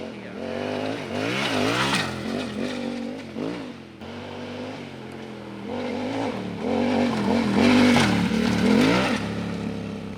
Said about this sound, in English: so I'm going to go on Clive's bike now and give it a run